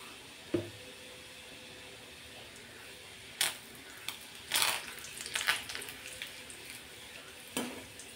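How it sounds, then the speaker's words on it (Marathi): Garlic frying in oil for a peanut curry, a faint, steady sizzle close by, broken by several sharp clinks and scrapes of a spoon against the pan, with no one talking. "लसूण मस्त असा खमंग झाला आहे तेलामध्ये"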